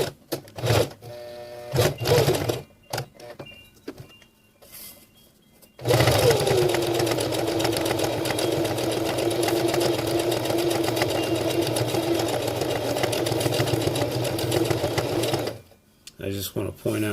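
A sewing machine stitching PALS/MOLLE webbing onto a fabric pouch: short bursts with someone talking at first, then a long continuous close mechanical whir for about ten seconds, stopping before another brief run.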